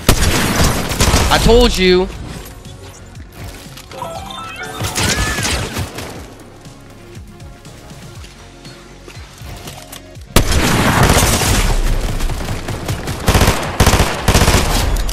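Bursts of rapid gunfire from a ranked battle-royale-style shooter game, loud and dense at the start, a quieter stretch with speech, then renewed heavy shooting and impacts near the end.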